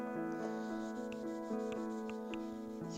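Steady close rubbing and sanding strokes work coating off a metal chassis and into its corners before painting, a continuous scratchy friction with faint tonal hum underneath and no talking.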